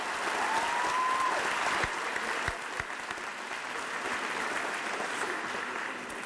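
Steady applause from a large crowd at a high school commencement, a continuous wash of clapping at moderate distance with a few louder individual claps.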